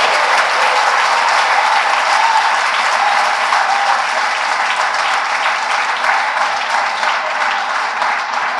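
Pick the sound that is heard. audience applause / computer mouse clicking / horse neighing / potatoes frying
audience applause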